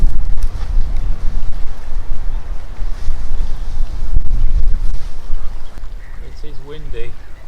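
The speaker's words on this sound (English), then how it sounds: "It is windy." Strong wind gusts buffet the microphone by a lake during a wild hammock camp in Yorkshire, a loud, continuous low roar throughout, with a few brief bird calls near the end.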